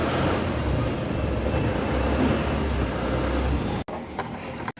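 An Isuzu Sportivo diesel engine idles after starting, a steady low rumbling drone close by that runs evenly before cutting briefly near the end amid a few clicks.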